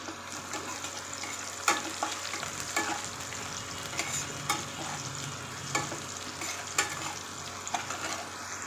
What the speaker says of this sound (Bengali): এবার পেঁয়াজটা ভাজা ভাজা হয়ে গেছে